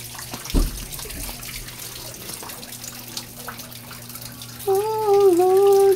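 Water runs from a tap into a container on a farm, a steady hiss with a thud near the start, then a rising tonal whine over the last second and a half, fairly loud.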